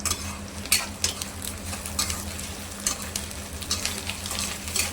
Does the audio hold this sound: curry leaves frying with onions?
yes